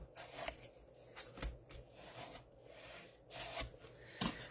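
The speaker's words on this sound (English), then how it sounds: "I'll get my bone folder and just burnish that down very well." A bone folder rubbed firmly over black cardstock, giving soft, close scraping strokes in several separate passes with short pauses between them, quiet and with no voices.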